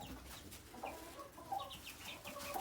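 Young chicks in a coop give faint, soft chirps and small clucking calls scattered through a quiet, low-level background of farmyard ambience, with no one talking.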